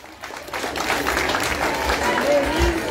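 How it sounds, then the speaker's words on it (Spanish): Audience applause at a carnival verse contest final in Entre Ríos, a broad outdoor crowd clapping continuously for a few seconds, with crowd noise and a voice over a loudspeaker. "los aplausos para los amigos del Trópico"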